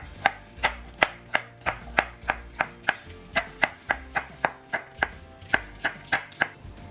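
A knife slices watermelon into cubes with about twenty crisp, evenly spaced chops in a steady rhythm, loud and close, with no talking.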